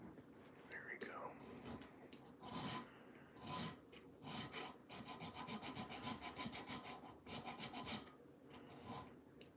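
A hand file rasps against a metal ring in rapid repeated rhythmic strokes near the microphone, with a few quieter pauses and a brief murmured voice early on.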